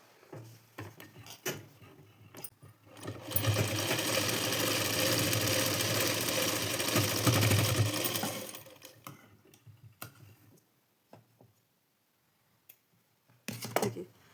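A sewing machine stitches blouse fabric in a burst of rapid, even running lasting several seconds, with a few brief clicks and handling noises before and after in a quiet room.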